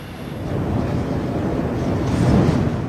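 Wind gusting across the open grounds of Lekki Port on a swirling, windy day, a steady broadband rush with low rumble that swells slightly near the end, no voices.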